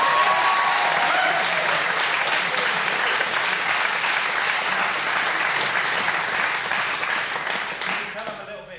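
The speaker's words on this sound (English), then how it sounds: "A huge round of applause." An audience at the Milligan Cup 2025 event gives a big round of applause for the staging leader, loud and dense clapping that carries on steadily, then tapers off near the end.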